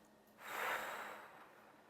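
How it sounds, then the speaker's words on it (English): A single big open-mouth exhale during yoga breathing practice, a soft airy whoosh that swells and then slowly fades, close and alone. "Hold your breath at the top and then a big open mouth breath out"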